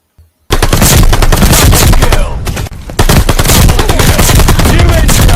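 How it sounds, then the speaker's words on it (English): Loud, rapid automatic gunfire bursts from a game, near and relentless, pausing briefly before the shooting resumes. "This is the sound of guns in a video game."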